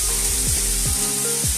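A beef pot roast's fat cap sears in a very hot pan, giving a loud, constant sizzle with a few faint clinks, heard close and alone.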